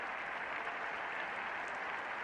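Cricket players give muted applause on the field as an English batsman reaches fifty against Australia, a faint, distant, even patter of clapping without voices.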